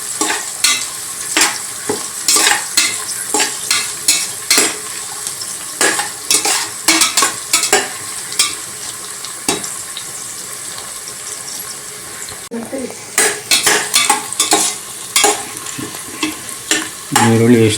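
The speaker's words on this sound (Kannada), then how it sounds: "ಈರುಳ್ಳಿ ಎಷ್ಟು ಈಗ ಹುರಿತಾ ಆಗ್ತಾ ಬಂತು" Onions fry for vegetable pulao in a pan on a low flame, with a steady sizzle under repeated loud clanks and scrapes of a spoon stirring, a brief pause, then more stirring. No one speaks.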